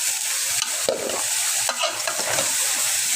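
Vegetables going into a hot pan for a mixed vegetable and fish curry, a bright, loud steady sizzle with a few soft stirring knocks, close and without talk.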